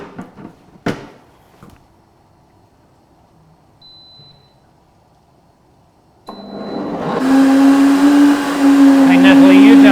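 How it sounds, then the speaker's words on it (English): A kitchen blender switches on and runs loudly and steadily, blending cassava leaves while cooking ndole, after a quiet stretch with a few clicks and a faint beep. "now we're going to switch the blender"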